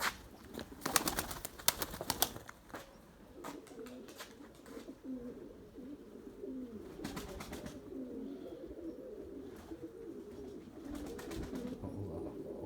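Pigeons coo softly and repeatedly while bursts of wing flapping come and go as the birds fly in, a mix of low murmuring calls and sharp fluttering at moderate distance.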